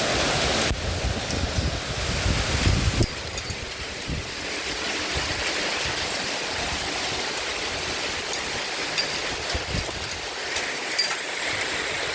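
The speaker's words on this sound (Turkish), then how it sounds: "Sanki dolu karışık." Heavy, steady rain mixed with hail roars without pause in Eskişehir, a dense hiss with a louder burst at the start and scattered sharper patters.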